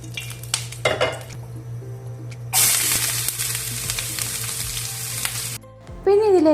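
Fenugreek seeds dropped into hot oil, a loud, sudden burst of hissing sizzle that holds steady for several seconds after some clinks of a pan and utensil, close by, with no one speaking.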